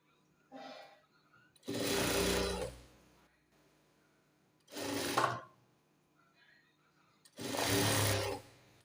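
A sewing machine stitching a coupling sleeve for a jubba (long tunic), running in three loud bursts of about a second each, separated by quiet pauses with a brief softer rattle.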